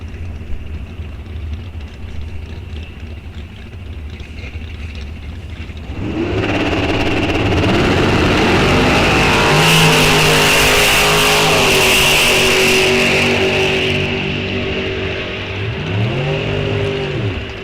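Dragsters at an ET bracket drag race, a Super Pro pairing including one in the right lane, idle low and then launch at about six seconds into a loud, sustained roar, with gear-shift pitch sweeps as the cars run the strip.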